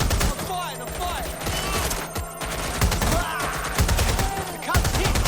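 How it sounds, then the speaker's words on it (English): Dense rapid gunfire from a Watch Dogs Legion firefight, bursts crackling almost continuously close by, with shouted voices mixed in amid the shooting. "Reloading! Cover me! I'm firing! I'm firing!"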